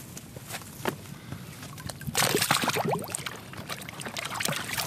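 An AR15 rifle being lowered into water during a field stress test, with trickling and a burst of splashing and bubbling partway through, close and fairly loud.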